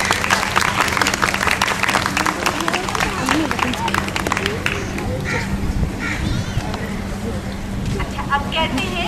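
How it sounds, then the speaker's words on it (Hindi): An audience at a Saturday storytelling session at Mohatta Palace claps after a story, with brisk applause for several seconds that thins out as voices and chatter take over. "तालियां बजाएंगे आप?"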